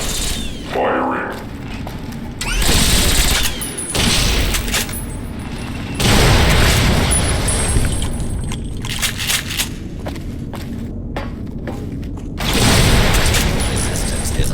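A robot fires its weapons in Fallout: New Vegas, loosing several loud bursts of booming gunfire that are separated by quieter gaps filled with mechanical clatter.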